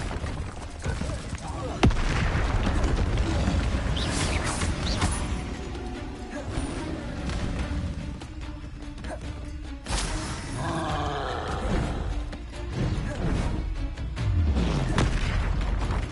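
Repeated Confringo blasting-spell explosions in Hogwarts Legacy, loud booming bursts over a dense roaring battle din, with a voice calling out spells between the blasts.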